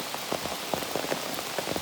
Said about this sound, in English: Another beautiful rainy day on the Appalachian Trail.